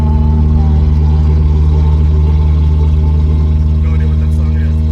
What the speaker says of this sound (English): Can't hear it over the awesome exhaust line anyway